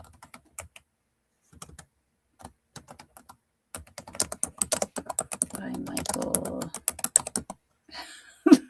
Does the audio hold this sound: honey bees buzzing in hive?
no